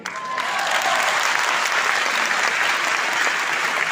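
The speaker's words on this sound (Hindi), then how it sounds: "ये तालियां क्या करती है?" Audience at a business seminar in Gandhi Bhawan, Lucknow, breaks into thick, sustained applause, a loud wash of many hands clapping continuously and evenly from start to finish.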